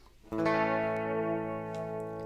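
A sustained, harmonically rich tone from a delay effect preset in the BLEASS Motion FX app starts abruptly and then rings on with repeating echoes, steady and fairly loud with no talk.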